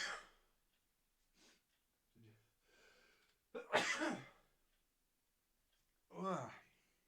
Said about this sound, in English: Oh, I feel like I have to fucking sneeze.